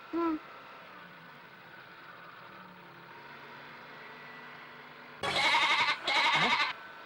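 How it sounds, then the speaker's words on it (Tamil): Two loud, wavering goat bleats near the end, following a brief call at the start over a low steady hum. "என்னடா ஆடு கத்துற சத்தம் கேக்குது"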